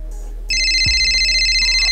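A loud electronic ringtone starts abruptly and keeps sounding steadily, a sustained high chiming tone over a low electrical hum, with a brief thump partway through.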